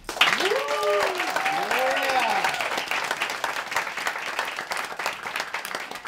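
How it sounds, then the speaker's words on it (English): Audience applause for young poets after a reading, a sustained wash of many hands clapping in a room while a voice calls out over the first seconds. "So if we could please get a round of applause for Gisselle, Naomi Williams, Caridad, Cruz, Rachel Godfrey, Franchesca, Peña, Arline, Pierre-Louis, Citlali, Pizarro, and Fridman."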